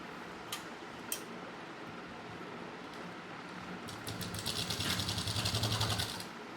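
A domestic sewing machine restitches a seam on homemade pocketed cotton shorts, a soft rapid mechanical whir that swells louder toward the end with a steady rattling stitch rhythm, heard close with no talking.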